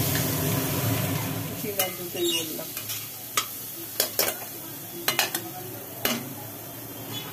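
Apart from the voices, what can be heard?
banana stem being stir-fried in a pan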